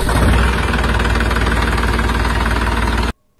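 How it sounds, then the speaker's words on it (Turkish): A Massey Ferguson 2615 diesel tractor engine idles loudly and steadily, a constant close rumble with a rapid knocking beat, then cuts off abruptly near the end. "Ama önce motor sesini bir duyalım"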